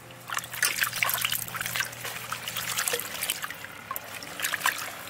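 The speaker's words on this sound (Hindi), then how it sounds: "इस पत्ते को डाल के आराम से धोएंगे, पत्ता फटना नहीं चाहिए।" Taro leaves are rinsed gently in a vessel of water, with steady trickling, splashing and dribbling throughout and bright, irregular drips. The sound is close and moderately loud.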